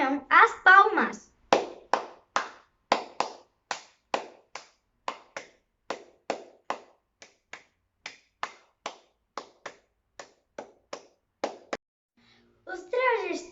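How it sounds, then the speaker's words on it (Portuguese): Flamenco palmas: a steady run of about twenty crisp, evenly spaced hand claps, close and dry, with a voice talking briefly before the claps begin and again just after they end. "E também, como não, as palmas."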